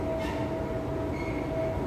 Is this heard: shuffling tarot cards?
no